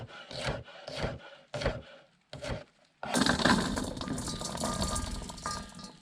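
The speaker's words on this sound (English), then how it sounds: "I'm gonna crack on with the chopping" Knife work on jalapenos, a few separate rough cutting strokes on a board with short gaps, then a longer, denser run of close chopping and scraping, fairly quiet and without talk.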